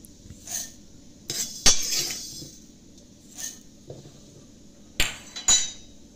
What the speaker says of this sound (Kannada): ಸ್ವಲ್ಪ ತಣ್ಣಗಾದ ಮೇಲೆ ಒಂದು ಮಿಕ್ಸಿ ಜಾರಿಗೆ ನಾನು ಹಾಕ್ಕೊಳ್ತಾ ಇದ್ದೀನಿ